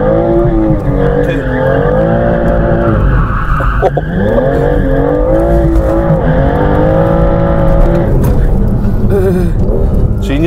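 A BMW M3 revs hard and skids, its engine note rising and falling in loud sweeping pitches over sustained tyre squeal, close and continuous, with voices faintly underneath.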